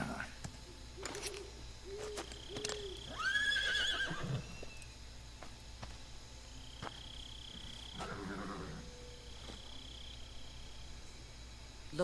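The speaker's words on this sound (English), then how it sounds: "Can I have the horse?" A horse in a stealth video game whinnies in a short quavering burst, with hoof clops and other faint game sounds around it and brief voices in between.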